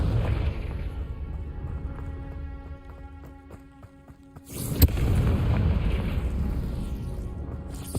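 A Confringo fire-spell explosion in Hogwarts Legacy, a sudden sharp blast near the middle that cuts through background music and ambience, followed by a sustained rumbling roar.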